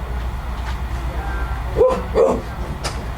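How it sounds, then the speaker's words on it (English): A dog barking, two short, clear barks about half a second apart, near and moderately loud, with a faint third yelp after, over a low background rumble. "the wonder dog"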